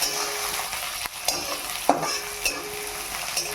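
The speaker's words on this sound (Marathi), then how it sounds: "याला असा नॉर्मली कलर येऊ द्यायचा व भाजून घ्यायचे." Churma mixture with turmeric stirred and roasted in a pan: a steady close sizzle broken by several sharp scraping strokes of a spoon against the pan.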